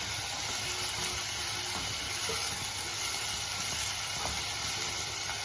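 Liver roast frying with slit green chillies and ginger paste in a pan, a steady, dense sizzle running close and evenly throughout with no voices.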